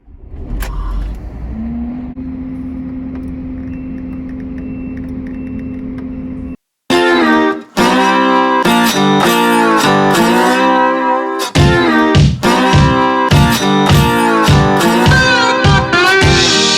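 A combine harvester drives out onto a farm road, its steady engine drone holding for about six seconds before loud rhythmic music takes over.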